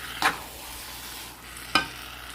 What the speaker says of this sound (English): Keep on stirring it.